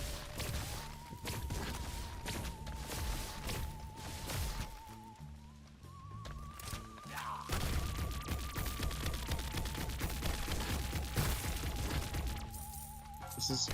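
Weapon fire and grenade explosions from the Zombieville USA 3D video game come as a dense, steady rattle of shots with booms scattered through it, moderately loud, under a looping game music tone.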